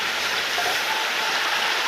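Water pours steadily into a cooking pot of fried chickpeas for pulao, a dense, even rushing splash heard close up with no talk.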